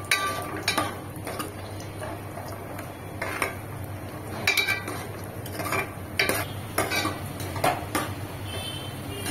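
Cashew nuts fry in hot oil in a pan for a dhaba-style kaju makhana curry. A steady close hiss runs throughout, with repeated clinks and scrapes of a spatula against the metal.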